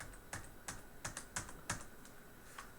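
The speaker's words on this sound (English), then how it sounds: "We type in 10 million here." Keystrokes on a computer keyboard during a map design task, about seven distinct taps spaced irregularly, close and fairly quiet, with no talking.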